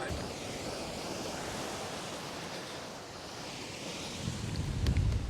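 Soft Mediterranean surf and gusty wind on an Andalusian beach blend into a continuous hiss and low rumble, with a louder buffeting burst near the end.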